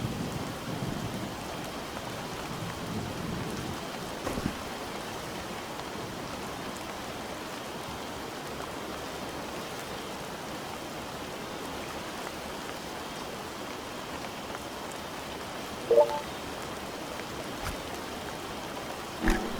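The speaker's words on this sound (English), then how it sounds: "It is still raining too heavily." Heavy rain pours steadily in Mystery of Neuschwanstein, a constant hiss of drops on surfaces with a few faint thumps, fairly quiet and with no voices.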